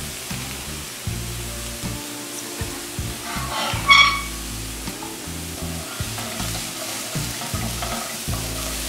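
Walnuts toast briefly in a pan of heating oil, giving a soft, low sizzle broken by light stirring and scraping sounds, with a short brighter clink near the middle.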